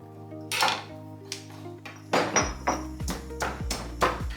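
Garlic, chili and shallot are smashed on a board, heard as a series of sharp, ringing knocks and clatters, about eight hits in irregular rhythm, close and fairly loud, with no voices.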